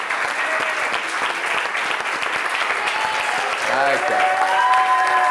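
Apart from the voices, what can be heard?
group applause for the camera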